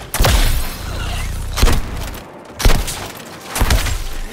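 Grenade blasts in Suicide Squad Kill the Justice League, four loud, sharp explosive bursts spaced about a second apart, each with a short rumbling tail, no voices over them.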